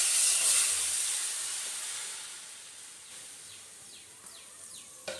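Grated mango for an oil-free mango pickle goes into a hot, dry wok and sets off a loud, broad sizzling hiss. The hiss slowly fades and settles, with a few faint scrapes near the end.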